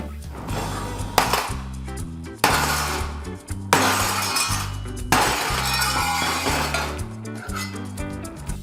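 A sledgehammer strikes a laser-welded metal joint in a strength test. Five loud, sharp clanging blows land at irregular intervals, each leaving a bright metallic ring.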